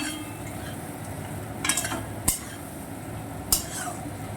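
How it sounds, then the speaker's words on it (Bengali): Chopped onion and garlic fry in a wok of hot oil, a soft steady sizzle punctuated by three sharp metallic clinks of a spatula against the pan. "এই যে পেঁয়াজ রসুন কুচি পেঁয়াজ কুচি ভাজছি"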